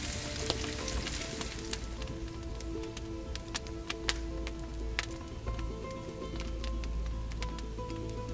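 Potato stacks fry in a pan inside a wood-fired oven, giving a steady close sizzle with sharp pops and crackles scattered throughout and no talking.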